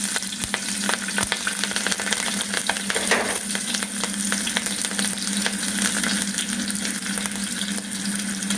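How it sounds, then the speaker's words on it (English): Garlic and green chili sizzle in a preheated pan while Veg Hakka noodles are being cooked, a steady loud frying hiss running throughout with occasional stirring clatter and no talking. "First we will add this garlic. Now next we will add this green chili."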